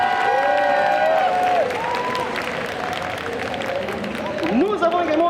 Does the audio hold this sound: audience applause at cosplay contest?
yes